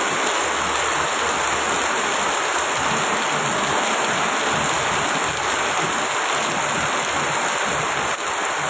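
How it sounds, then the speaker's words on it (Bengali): Steady rain falls throughout on a rainy day, a dense, even hiss of drops with no pauses, loud and close, and no one talks over it. "বৃষ্টি একটু কমার দিকে আছে।"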